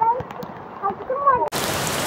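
Rain falls steadily in a broad hiss, first heard from a distance under faint background sound, then swelling abruptly to a loud close wash of raindrops.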